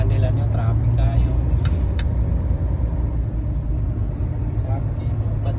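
Traffic inside a tunnel: a loud, continuous low rumble of cars and engines echoing steadily throughout, with faint brief higher mechanical tones near the start.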